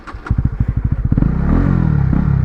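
A Honda CB150R motorcycle, left parked for several months, cranks with rapid rhythmic chuffs, catches and settles into a loud steady idle that rises slightly as it revs, close by.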